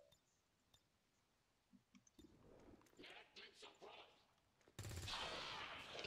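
Gunfire in the XCOM video game, sharp shots and clicks, with a loud sustained burst of fire near the end over a quiet background.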